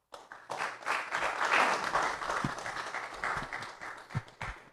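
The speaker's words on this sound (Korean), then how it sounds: "나오실 때 뜨거운 박수로 환영해 주시기 바랍니다." An audience at a Korean theological book launch applauds to welcome a speaker to the stage, with steady clapping that swells and then fades, with a few louder claps near the end.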